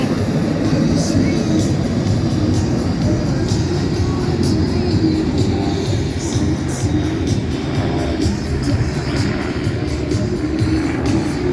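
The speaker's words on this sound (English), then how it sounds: "These are all kit planes." A steady drone of several light propeller kit planes flying in formation passes overhead, with a constant broadband roar and faint crackling throughout.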